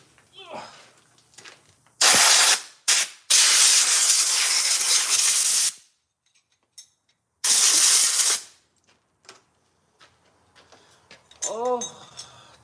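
An aerosol can sprays onto a milling machine in a home shop in several loud hissing bursts, two long ones and a few short ones, each separated by quiet. Faint clatter comes between the bursts, with no speech over the spray.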